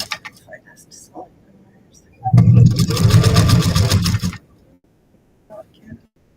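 A home sewing machine stitching fabric runs in one steady, loud two-second burst, with soft speech and small handling noises before and after.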